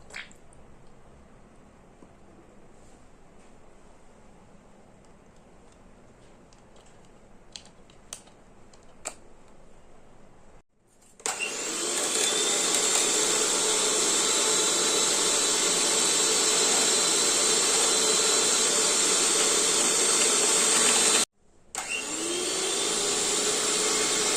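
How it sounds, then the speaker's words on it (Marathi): An electric beater whirs steadily through a mango kulfi mixture of fresh cream, running loud in two long bursts with a brief stop between them after quieter handling noises. "आता याला आपण बीटरने मिक्स करून घेऊया।"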